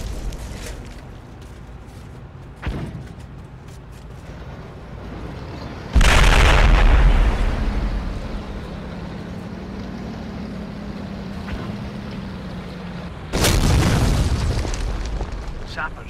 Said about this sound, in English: Get the mortar in